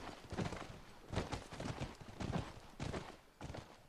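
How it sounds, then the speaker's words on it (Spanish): Horse hooves in The Last of Us video game approaching at a ranch, in irregular bursts of clopping steps at moderate distance, with no talk. "Ahí va el caballo que viene hacia mí."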